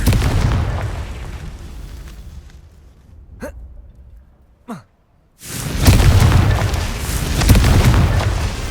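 Confringo fire spell explosions in the Hogwarts Legacy video game: loud booming blasts and rumble, two sharp whooshing casts in a quiet gap, then another heavy roaring burst.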